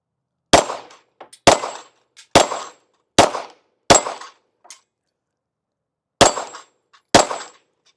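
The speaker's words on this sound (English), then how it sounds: "That was 7 shots, but that seemed too easy this time." Seven pistol shots from a Springfield Echelon at a 10-yard range, loud sharp cracks with brief ringing tails, five fired in a quick even rhythm, then a pause before two more.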